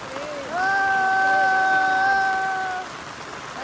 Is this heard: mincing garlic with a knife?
no